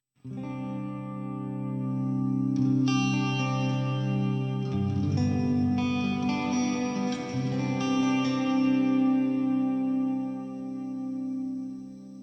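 An electric guitar rings out through a TC Electronic Hall of Fame 2 reverb pedal with modulation engaged, its sustained chords swelling, shimmering and washing into a floating, wavering tail over about twelve seconds.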